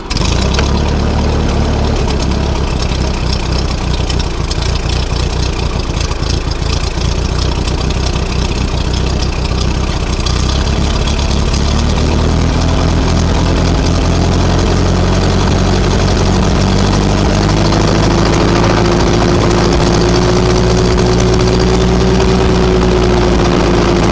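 A Ferguson TO-20 tractor engine runs loud and close, chugging steadily and then climbing in pitch as the throttle is raised, with no talk over it.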